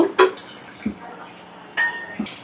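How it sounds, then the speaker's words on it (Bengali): A metal lid is lifted off a pot of boiling taro and eggplant curry, giving a couple of short close clinks and a light knock against quiet kitchen background, no speech. "ঢাকাটা আমি তুলে নিলাম।"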